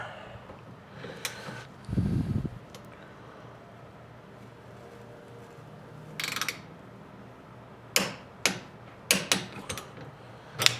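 A torque wrench set to 40 inch-pounds tightens bolts on Harley Touring passenger floorboards. Quiet ratcheting is followed by a short run of sharp mechanical clicks near the end.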